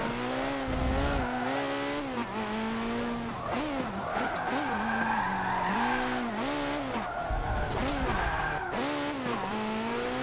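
Hypercars in Forza Motorsport 7 attack sharp turns, high-revving engines climbing and falling through gear changes with screeching tires on the corners, loud and continuous, mostly without speech.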